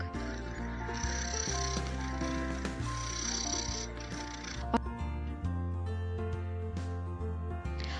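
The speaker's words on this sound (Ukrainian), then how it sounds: "А хто полюбляє муркотіти?" A domestic cat purring in a steady, low rumbling drone under a musical background, fairly close and continuous for several seconds.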